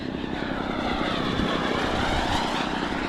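A radio-controlled model airplane drones past with a steady, loud engine buzz that holds fairly even throughout, heard alone at an outdoor flying field.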